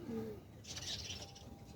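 Native pigeons offered for sale in Bangalore coo softly in a short low murmur, with brief higher bird calls and chirps mixed in over steady background noise; no one speaks.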